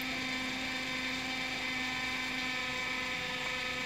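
A cup tumbler motor turns a drinkware cup for a turf-themed coating, giving a steady, unbroken mechanical hum with a whining tone and no voices.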